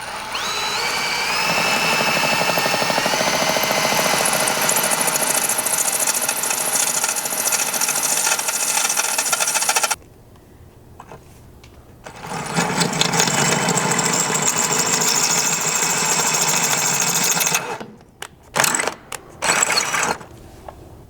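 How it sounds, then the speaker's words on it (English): Drill with a 1/8 inch bit boring into the hard pinch seam of a Ford Bronco Sport. The loud, steady whine runs for about ten seconds, stops briefly, restarts, then breaks off into short bursts. "just start small with something like this 1/8 inch drill bit that I have here and work your way up"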